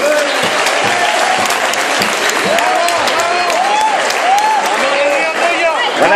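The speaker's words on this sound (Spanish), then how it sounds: "Un aplauso a Fusion Freak" Loud, dense audience applause at a gaming convention cosplay prize-giving fills the space steadily, with faint voices and a few tonal sweeps riding over the clapping throughout.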